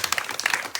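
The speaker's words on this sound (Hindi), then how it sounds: "जमूरे ताली बजाओ" Brief, moderately quiet scattered clapping from a street crowd watching a roadside magic show, a loose patter of hands lasting under a second.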